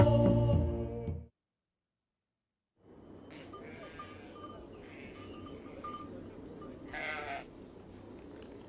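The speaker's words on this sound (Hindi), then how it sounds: "बकरियों को इकट्ठा करो" Goats bleat within a flock in a film scene, several overlapping calls over a steady murmur of animal and ambient noise, with one clearer bleat standing out near the end after an earlier loud burst and a brief silence.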